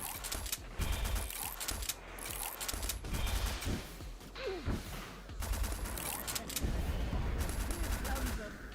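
Rapid, heavy bursts of gunfire from the video game Steel Carnelian, dense rattling volleys that stop and start in loud clusters, with a voice speaking in between.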